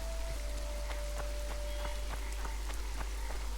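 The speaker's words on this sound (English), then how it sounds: "Squirrel sorcerers summoned this rain." Video game rain in The Witcher 2: Assassins of Kings: steady rainfall with distinct droplets pattering on a surface, fairly quiet, with a faint thin tone sustained briefly underneath.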